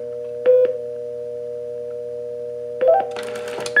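Beeping tones come from a pulse-dial-to-DTMF converter in blue box mode, two short bursts separated by a pause, over a steady background hum and heard up close with no talk.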